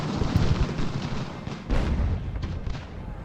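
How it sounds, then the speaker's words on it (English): Heavy cannon fire in the Revolutionary War strategy game Ultimate General: Revolution, a dense rumbling din of booms with a stronger blast midway, continuous battle noise throughout. "I would like to shoot the artillery if I may."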